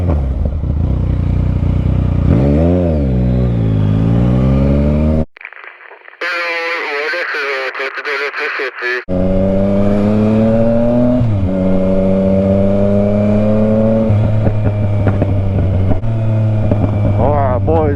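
Motorcycle ridden and accelerating, loud close engine revving rising and falling in pitch through gear changes, with a brief wind-buffeted gap midway and voices talking over it.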